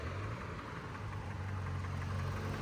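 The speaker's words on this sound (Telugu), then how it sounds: "కార్ ఇంజన్ అంతా బాగానే ఉంది డ్రైవ్ చేస్తే, కానీ చిన్న కట్ సౌండ్ వస్తుంది." A car engine idles steadily with a low rumbling hum and a faint, small knocking tick running underneath, held close and constant throughout with no talk.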